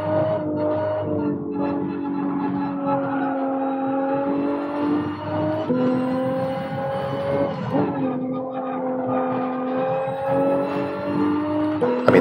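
Race car engines in Gran Turismo 7 drone steadily through a daily online race, sustained tonal whine with pitch shifts as gears change, several cars close together, loud and continuous for about twelve seconds.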